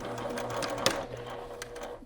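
A sewing machine runs a seam across quilt scraps, a close, steady mechanical whirr with a quick stitching rhythm and one sharp click partway through.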